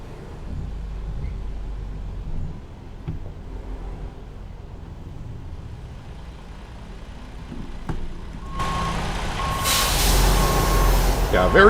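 A tanker truck in American Truck Simulator backs up, its steady reversing beeps starting partway through over a low engine rumble, with a driver talking throughout.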